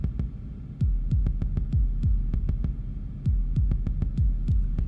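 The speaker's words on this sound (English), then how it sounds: "You hear how the first kick is opening up?" A modular synth kick drum plays a steady heartbeat-like pulse of deep, booming thumps with click-like attacks, repeating rhythmically in a live drum patch without any voices.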